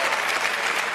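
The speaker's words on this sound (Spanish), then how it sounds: "Fuerte el aplauso para Albacete." Studio audience bursts into loud, dense applause on a Spanish talk show after a call to cheer for Albacete, a steady wash of clapping that fills the whole moment with no voices over it.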